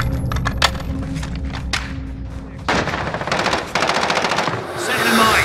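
Rapid automatic gunfire from an FN SCAR-H battle rifle in the video game Modern Warfare on PS5, loud bursts of shots with clicking and rattling between them, continuing steadily with dense firing toward the end.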